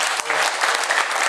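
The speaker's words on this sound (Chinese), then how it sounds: "给他最热烈的掌声。" Warm applause from an audience at a guest introduction event, dense steady clapping with a faint voice briefly audible at the start.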